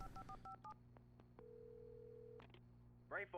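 A telephone rings in the Alan Wake Remastered video game: a few short dialing beeps, then one steady electronic tone lasting about a second, faint and alone, with a voice briefly at the end.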